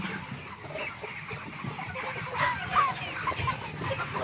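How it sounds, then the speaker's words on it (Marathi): Chickens, including a rooster and broiler hens in a poultry shed, cluck softly amid a murmur of farmyard background noise, with a few brief higher calls standing out. "हा पण कोंबडा आहे हे बघा ही कोंबडी आहे"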